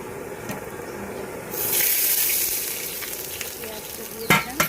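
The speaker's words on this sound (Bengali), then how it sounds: "পেঁয়াজটা দিয়ে দিলাম।" Onion drops into hot oil seasoned with panch phoron, dried chilli and bay leaf in a pan on a stove, bursting into a loud close sizzle that settles into steady frying, with a few clinks near the end.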